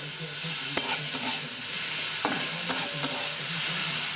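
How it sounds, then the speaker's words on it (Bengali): Potato pieces frying in hot oil for simple dalia, a steady close sizzle broken by several sharp clicks and scrapes of a spoon stirring against the pan. "তেলে ফ্রাই করে নিতে হবে"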